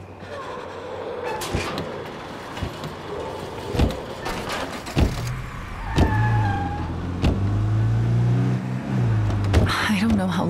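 A car engine starts up and drives in the zombie survival video game State of Decay 2, with a low rumbling hum that builds under doors and clunks. Characters talk over it throughout.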